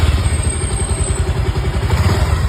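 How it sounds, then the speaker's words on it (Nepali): A freshly rebuilt motorcycle engine idles close by with a steady, fast thumping pulse and mechanical clatter, loud and continuous throughout. "इन्जिनको साउन्ड सुनाइदिनु पऱ्यो, एकचोटि स्टार्ट गरिदिनु पऱ्यो मोटरसाइकल"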